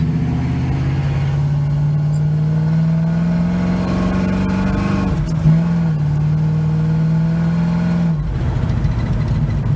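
A 1971 Chevy C10 pickup engine hums steadily from inside the cab while driving, with a low droning tone that dips briefly during gear shifts.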